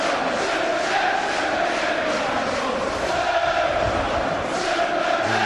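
A large football stadium crowd at Selhurst Park applauding and cheering an opening goal in a continuous roar that swells and holds steady throughout.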